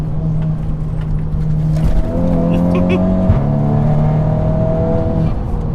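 A tuned Volkswagen Scirocco R engine idles and revs in a steady drone, with a few sharp pops from the exhaust on DSG gearshifts, while people talk over it.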